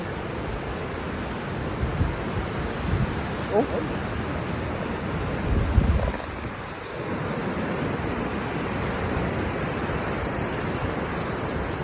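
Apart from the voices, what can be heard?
strong ocean waves crashing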